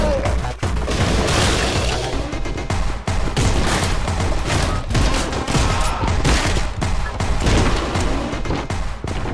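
A loud, chaotic run of explosive blasts and bangs in Anger Foot, a bomb going off amid dense overlapping booms and crackling debris that fill the whole stretch without letting up.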